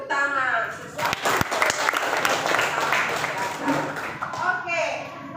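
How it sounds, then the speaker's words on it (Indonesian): A class of students claps together in a classroom during a social studies lesson, a short burst of applause with sharp individual claps, surrounded by children's voices and talk. "Ya, tepuk tangan."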